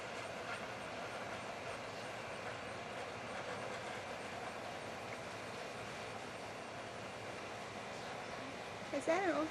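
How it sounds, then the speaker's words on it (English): A train rolls past near an abandoned rail yard with a turntable in Montgomery, Alabama, as a steady, fairly distant rumble and rattle of rail cars that holds throughout and swells slightly at the very end. "And a train is actually coming."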